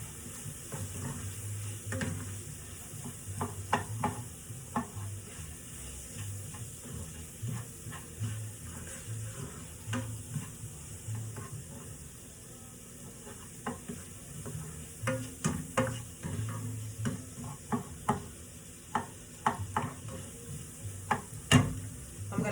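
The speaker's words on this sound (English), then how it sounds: "Give it a quick stir." Chicken and zucchini noodles sizzle in a pan while a utensil stirs them in repeated scraping strokes, with a soft, steady frying hiss underneath and a few sharper clinks, no talking.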